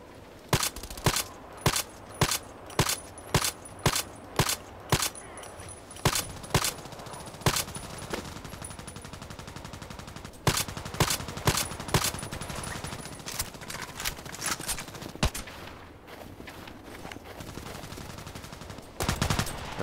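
Rapid single shots fired in quick, evenly spaced bursts from an EBR rifle in a shooter video game. The shots are sharp and loud, with a short pause partway through before the firing resumes.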